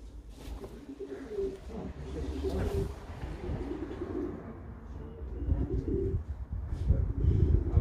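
Pigeons coo softly inside a derelict seaside hotel, Fistral Bay Hotel, low murmuring calls repeating steadily across the clip amid a rustling, echoey room tone, with faint voices in the background.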